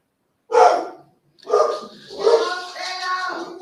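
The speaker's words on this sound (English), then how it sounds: "Unless my dog is barking" A dog barks indoors in a few loud, separate bursts with short gaps, close to the microphone and with no other sound around it.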